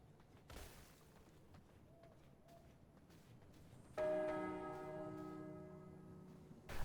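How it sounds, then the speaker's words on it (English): Chiming bells on a pet creature in a video game ring out, faint at first, then a loud sustained bell tone swells and lingers near the end. "those are Orthos's chewing bells"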